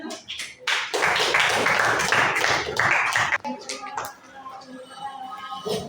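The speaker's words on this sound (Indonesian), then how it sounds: "Ya, tepuk tangan dulu." A school class breaks into clapping, a burst of hand claps from many students lasting a couple of seconds, preceded and followed by scattered taps and voices talking nearby.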